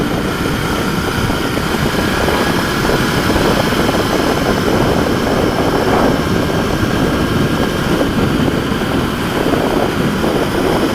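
A Royal Enfield 650 Interceptor motorcycle accelerates briskly, its engine a loud, continuous low roar mixed with steady wind rush, heard close up without a break.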